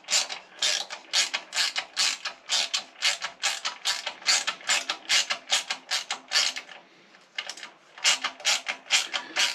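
Ratchet wrench tightening bolts on a 2025 Honda Hornet 1000 motorcycle while fitting an Ixrace M8 exhaust, a close, crisp clicking ratchet in steady rhythmic bursts with a short pause.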